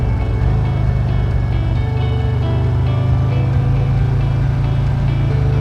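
Steady engine drone of a 2020 Harley-Davidson Road King Special motorcycle cruising and accelerating on the road, a continuous low rumble with wind noise, no talk.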